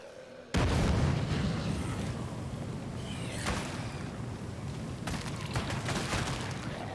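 Revolver shots fired at people in the State of Decay 2 video game, a sudden loud burst followed by sustained dense crackling gunfire and booms with scattered sharp reports, no talk.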